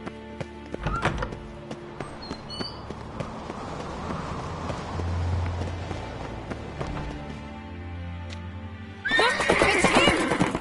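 A horse in The Witcher 3 video game whinnies sharply, and its hooves thud and clip-clop nearby, ending with a loud burst of movement.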